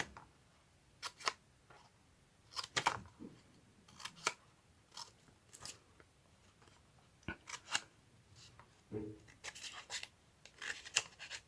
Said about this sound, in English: I'm going to take smaller scissors. I'm just going to cut it like so.